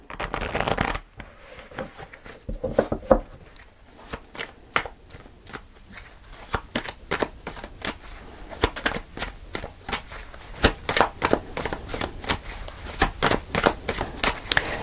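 Tarot cards shuffled by hand in a steady run of crisp riffling flicks and slaps, close and fairly loud, continuing for most of the stretch with no talk.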